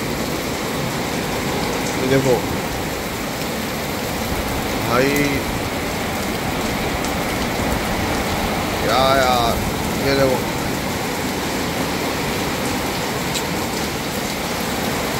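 Dense, steady heavy rain roars continuously during a storm while someone speaks briefly over it, with occasional passing engine noise in the background.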